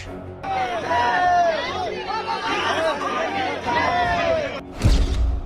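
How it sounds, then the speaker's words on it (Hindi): A dense crowd of devotees at an airport chatters and shouts together, a steady babble of many voices, with a sudden loud bang near the end. "एयरपोर्ट पर उमड़ी भक्तों की भीड़।"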